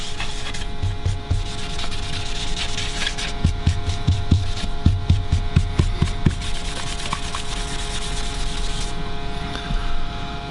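A cloth rubs yellow stain back out across a maple burl guitar body, producing a steady scratchy swishing with rhythmic strokes in the middle stretch, close and fairly loud over a constant electrical hum, no talking.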